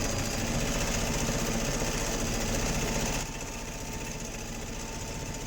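A sewing machine runs at a steady rapid clatter while stitching camp chair caddy fabric, then shifts briefly to a slightly softer, slower rhythm near the end.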